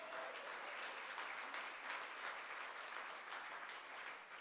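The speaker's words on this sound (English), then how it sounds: "that deserves a round of applause" An audience at the rededication of the Public Theater claps in steady, dense applause throughout, fairly faint and without voices on top.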